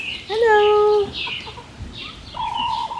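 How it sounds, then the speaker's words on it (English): Backyard hens cluck and croon nearby, a long drawn-out tonal call followed by softer clucks and another drawn note, close and clear. "Oh look, here's our big chickens."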